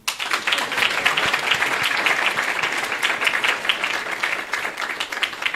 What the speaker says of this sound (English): Why don't you clap for me?